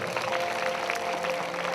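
Steady applause from a crowd at a Christian prayer meeting, a dense continuous patter of clapping throughout.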